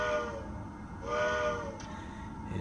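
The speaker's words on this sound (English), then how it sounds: "here's the whistle" A model train whistle, set off from a touch control panel, sounds in two moderately loud harmonic blasts, one near the start and a second around the middle, over a steady background hum.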